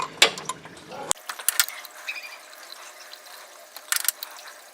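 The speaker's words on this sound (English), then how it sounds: "I'm going to take a 10mm and loosen up the bolts for the pulley." A 10mm ratchet clicks in short bursts while loosening the water pump pulley bolts on a Ford 2.5L engine, with metallic clanks and tool handling up close and quiet between bursts.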